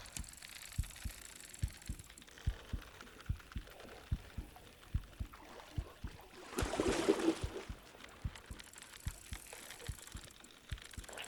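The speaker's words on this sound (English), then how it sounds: "Well, he's got that trophy heartbeat." A trophy fish heartbeat cue in the video game Bassmaster Fishing 2022 pulses as a soft, low, steady thump in quick regular pairs, faint beneath a quiet ambient bed with a brief rush of water midway.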